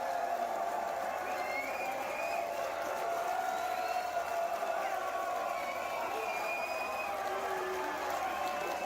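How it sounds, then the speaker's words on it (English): A crowd at the Nova Open Warhammer event cheers and applauds after new reveals, a dense continuous roar of voices and clapping heard through playback, with whoops rising over the steady wash. "We've actually got a short video of the crowd at the Nova Open just after they've seen some of the new reveals."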